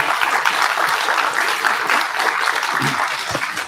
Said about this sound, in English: Please give him a round of applause as he comes out.